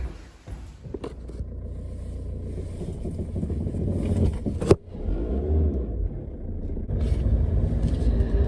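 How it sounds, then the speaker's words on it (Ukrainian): Inside a moving car, a steady low engine and road rumble runs throughout with a brief thump partway through and slightly rising noise toward the end, with no talk. "Ви не повірите, але я зараз їду в чужій машині."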